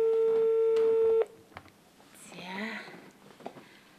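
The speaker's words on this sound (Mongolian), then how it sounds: "манай үзэгчийн утас тасраад давхар дуудлага гарч ирээ" A steady telephone line tone on a dropped viewer call to a live call-in broadcast holds loud for about a second, then cuts off abruptly, leaving faint scattered noises and a soft rustle.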